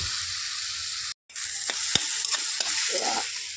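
Coriander and cumin seeds frying in a pan give a steady, bright hiss and sizzle that cuts out briefly, then returns with several sharp stirring clicks and scrapes close up.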